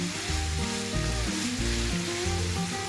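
Meat filling with garlic sautés in a pot for an eggplant dish, giving a continuous close sizzle over a bed of background music, with no talking.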